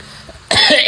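A single loud, harsh cough bursts out close up after a brief quiet moment.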